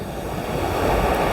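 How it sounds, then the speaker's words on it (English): Sea waves break and wash in on a pebbly Welsh beach as the tide comes in, a loud, close, continuous surging rush with wind in the microphone and no voices. "I'm getting quite a lot of the big waves coming quite close as well"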